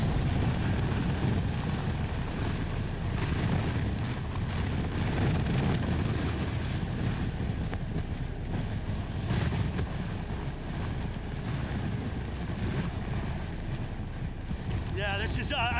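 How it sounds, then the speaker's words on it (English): Hurricane Isaias eyewall wind roaring in a strong, continuous rush that buffets the microphone with gusty surges and rumble throughout, loud and unbroken. "trying to parallel the wind to me and have it coming across me"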